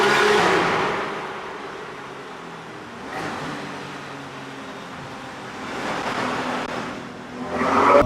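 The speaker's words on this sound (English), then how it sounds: "Our first tunnel run in the RS." A Porsche GT3 RS engine in a tunnel, its loud roar rising in surges at the start, again mid-run and at the end, with a steady droning between bursts.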